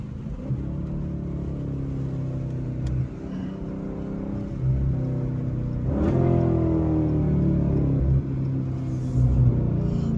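Dodge Charger SRT 392 V8 pulling up, a deep rumbling idle with throttle blips and a rising rev near the middle, heard close and with no talking.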